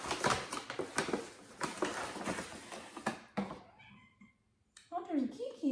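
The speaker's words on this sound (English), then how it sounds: "Oh, there's a kitty." A kitten in a home kitchen gives a few clear, rising meows near the microphone after someone talks over general kitchen clatter.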